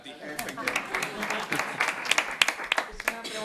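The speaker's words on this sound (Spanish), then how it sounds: "le damos un fuerte aplauso" Scattered clapping from a round-table audience on sports psychology rises in uneven bursts while a voice keeps talking over it, the sharp individual claps standing out against the speech.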